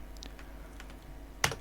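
Keys clicking on a computer keyboard while Lua code is typed: faint, sparse taps under a steady low hum, ending in a single sharper, louder keystroke near the close.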